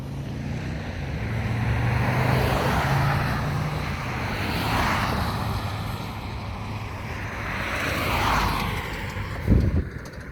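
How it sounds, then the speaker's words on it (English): Steady rumble of busy street traffic in downtown Hilo, Hawaii, with cars passing by one after another in swelling waves, plus a sharper thump near the end, heard outdoors amid wind noise. "There's actually busy traffic right now."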